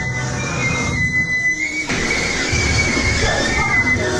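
A malfunctioning amusement park ride rumbles and roars loudly, with a continuous heavy mechanical rumble, metallic squealing tones and a brief dip before it surges again, no voices.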